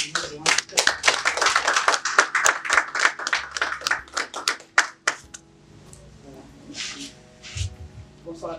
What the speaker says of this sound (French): Je vous prie d'applaudir très fort